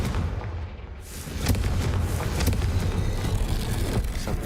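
A Confringo fire spell bursting in Hogwarts Legacy, a rumbling explosive boom that swells after a brief quieter start and keeps roaring with crackling debris for several seconds.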